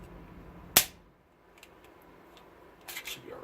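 Quick reload of a Sig Sauer 1911 Tac Ops 9mm pistol magazine: one sharp metallic click near the start, then faint handling noises and a short cluster of clacks at the end, close and otherwise quiet.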